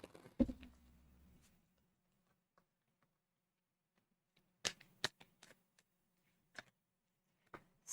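Tarot cards being shuffled and handled, a few soft, close riffles and sharp flicks scattered across otherwise quiet moments, with faint clicks between them.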